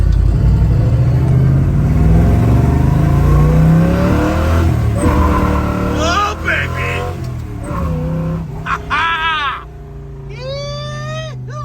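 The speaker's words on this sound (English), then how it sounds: "This car drives real nice." A 1970 Chevrolet Nova SS engine revs and accelerates loudly while driving, a steady close-up roar with rising pitch sweeps, and people talk over it throughout.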